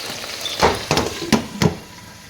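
Okra soup cooking in a covered pot gives a soft sizzle and bubbling close by, broken by four distinct clinks or stirring knocks in quick succession before it quietens.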